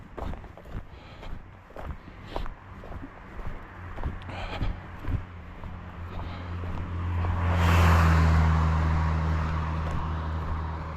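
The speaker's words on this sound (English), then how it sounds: "That car coming up behind me." A car approaches from behind along a road at night, its low engine and tire rumble swelling steadily to a loud peak near the end, with a walker's footsteps crunching throughout.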